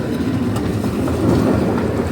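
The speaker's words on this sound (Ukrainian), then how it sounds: "Зараз пропускаємо трамвай." A tram rolls past on a winter street, its loud steady rumble and wheel clatter filling the scene close by.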